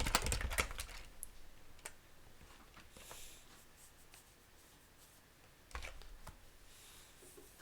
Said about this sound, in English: Keyboard sound is so satisfying.